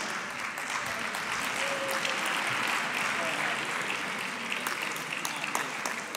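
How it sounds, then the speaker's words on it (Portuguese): Audience applause on stage at an honorary event in Lisbon, a steady wash of clapping held for several seconds at even loudness with some murmuring mixed in. "Tenho aqui um aplauso especial em palco"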